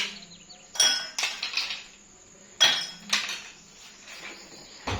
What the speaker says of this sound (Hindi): तो ये इस तरह बर्फ के क्यूब डाल के